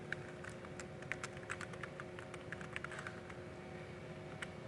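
Rapid typing on a computer keyboard into a document window, a steady stream of close, crisp key clicks over faint background hum, with no talking.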